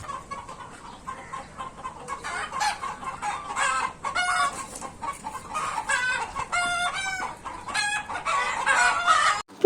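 Chickens cluck busily on a farm in Bahrain while a rooster crows in several loud, drawn-out bursts, the calls close and overlapping against a constant background of farmyard birds.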